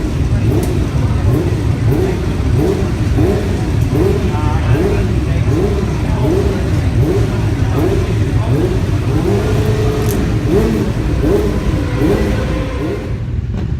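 Racing motorcycle at Silverstone race circuit, its engine droning loudly and steadily with rising and falling revs, a dense mechanical roar under a man's speech.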